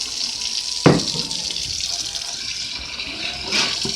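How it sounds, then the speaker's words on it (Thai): Soaked sticky rice being rinsed with water for microwave steaming, a steady running-water wash with a couple of louder splashes, no talking. "เราก็จะเอาไปล้างน้ำนะคะ"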